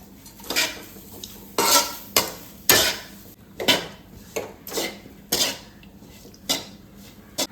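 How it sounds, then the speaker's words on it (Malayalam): Shallots, ginger, garlic, black pepper and curry leaves are stir-fried with coconut in a pan for a chutney powder, a spatula clanking and scraping in a steady run of about a dozen close strokes with a faint sizzle underneath. "ഇഞ്ചി, വെളുത്തുള്ളി, കുരുമുളക്, കറിവേപ്പില ഇത്രയും ഇട്ട് നന്നായിട്ട് വറുത്തെടുക്കാം."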